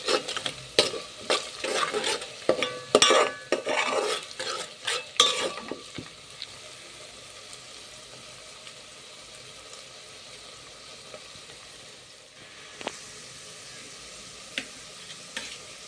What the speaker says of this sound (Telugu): కొబ్బరి తురుము, అల్లం వెల్లుల్లి పేస్ట్ 2 బాగా ఫ్రై చేసుకోండి